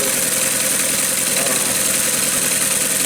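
A handmade model engine, with homemade gears, carburetor and crankshaft, runs at a steady idle, giving a continuous, even mechanical chatter that stays close and constant throughout.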